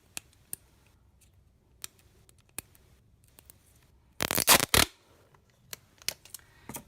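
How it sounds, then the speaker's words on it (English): Sellotape is pulled and torn from a roll for a paper fan craft: a loud, close ripping burst of about half a second, surrounded by scattered soft taps and paper handling clicks in a quiet room. "Now I'm going to take a bit of sellotape."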